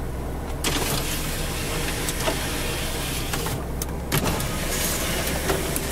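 Power windows of a 1993 Chevrolet Corvette C4 with a 350 LT1, a low electric motor whine running inside the car, broken by a few small clicks and knocks.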